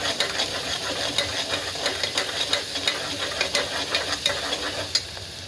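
A spoon stirs ginger-garlic paste and spiced rice ingredients in a hot pan, with sizzling and frying hiss under rhythmic scraping strokes. The sound is close and continuous, with no talking.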